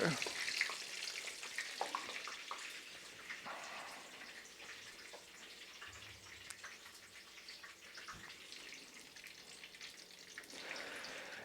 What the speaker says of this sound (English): we're frying some fish over here.